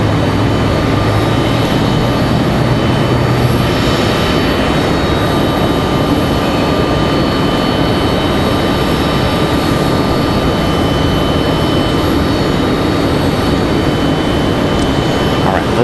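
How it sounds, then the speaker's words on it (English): An Airbus A220-300 jet airliner coming in from Fort Myers, Florida to Raleigh-Durham International, a loud, steady roar of engine noise that holds at the same level throughout. "It's gonna be an A220-300. This one coming in from Fort Myers, Florida."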